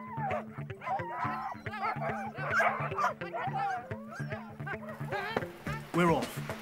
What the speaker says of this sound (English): We're off on a 6-dog-powered sled with one puppy in hot pursuit.